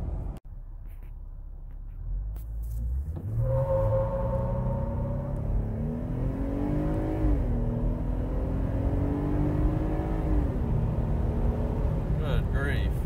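A lifted Jeep JL Wrangler with the 3.6L engine, 35-inch tires and stock 3.45 gears launches hard from a standstill. The close, loud engine roar rises in pitch, drops at gear shifts, then climbs again.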